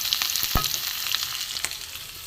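Potatoes and garlic frying in oil in a pan, a steady close sizzle with a few soft spatula knocks, brief and without talk.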